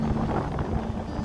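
Strong wind buffets the microphone aboard a small sailing dinghy off Waiheke Island, a faint, continuous rushing roar with low gusty rumble and no speech.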